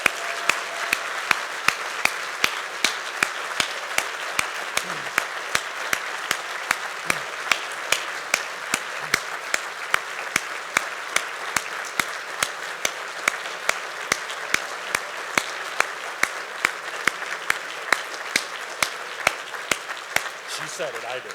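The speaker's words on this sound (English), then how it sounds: "Let's give her a big round of applause." A conference breakfast audience claps steadily for about twenty seconds after a retirement announcement, a dense even patter of many hands with no pause.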